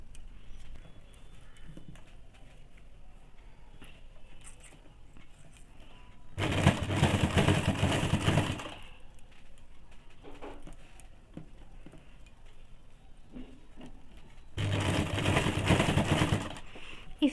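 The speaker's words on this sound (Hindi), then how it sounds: "इस तरह से एक दाग पे पूरे में सिलाई चला लीजिएगा" A sewing machine stitching around a high-neck blouse neckline runs in two loud bursts of rapid mechanical clatter, each about two seconds, separated by quiet handling of the fabric.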